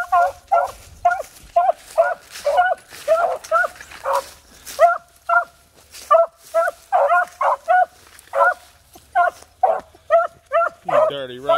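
A dog barks in a steady run of sharp, loud, close barks, repeated in quick bursts for the whole stretch with short gaps between them, and a brief whine near the end.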